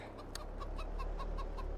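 Farm chickens in Farming Simulator 22 cluck in a quick, regular series of short calls, fairly faint over a low background hum.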